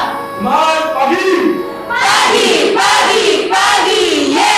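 Indonesian grade 8 classroom students shout a cheer chant together in loud, rhythmic group bursts, a leader calling and the class answering in unison several times, alone without other talk.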